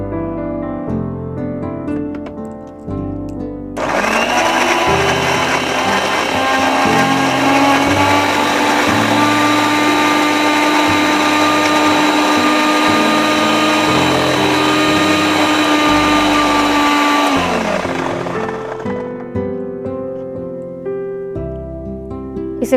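A kitchen blender purees ingredients for a green chicken dish, starting after a few seconds with a loud, sustained whirring roar that holds steady for about fifteen seconds before winding down, with quieter clatter before and after.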